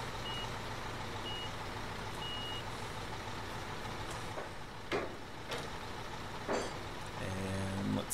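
A half-pipe truck reversing in Construction Simulator 2015 gives steady, high warning beeps over a constant diesel engine drone, with a few sharp hissing bursts like air brakes toward the end.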